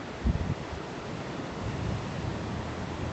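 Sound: ocean waves on the shore

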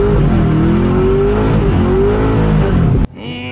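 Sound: supercharged Corvette Z06 doing a burnout

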